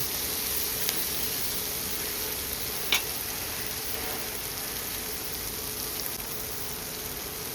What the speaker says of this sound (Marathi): दोन टमॅटो मी चिरून घेतलेले आहेत बारीक हे आपण चांगलं परतून घेऊ